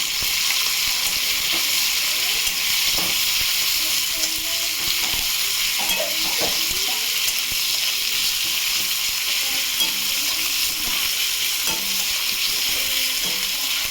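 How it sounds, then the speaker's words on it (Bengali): Onions and tomato sizzle in hot oil in a wok after fish has been fried in it, a constant loud hiss with occasional stirring scrapes and clinks. "পেঁয়াজটাকে ভাজা ভাজা করবো।"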